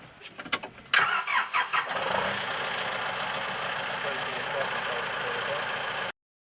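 A tractor engine is started with a key: a rapid run of starter cranking chugs quickly catches, then the motor settles into a steady, loud idle nearby before cutting off abruptly.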